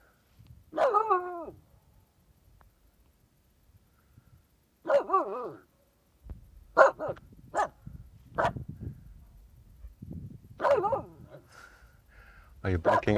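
A dog barks in short bursts at its own echo over water on a cold day, the yelping and whimpering barks ringing back between pauses, while someone talks to it in between.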